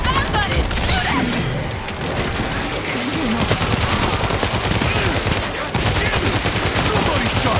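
Dense, continuous gunfire from rifles and machine guns in a World War shooter video game, loud and relentless with overlapping shots and blasts, with voices faintly mixed in.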